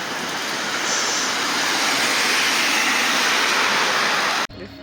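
Rain falls steadily during twilight in Bavaria, heard from a sheltered spot as a dense, even hiss that stays loud throughout before cutting off abruptly near the end.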